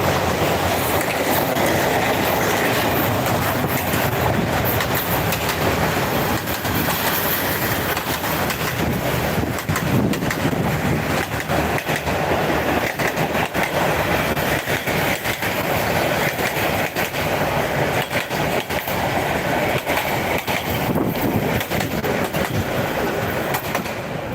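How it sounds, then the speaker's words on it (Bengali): A train rumbles steadily past close by at the Mohakhali rail gate beside a market, wheels clattering on the rails with occasional metallic squeals throughout. "আমরা সরাসরি এখন দেখতে পাচ্ছি যে ট্রেন আসতেছে"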